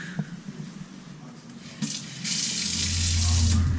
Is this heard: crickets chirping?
no